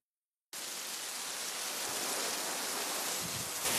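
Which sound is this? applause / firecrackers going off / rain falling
rain falling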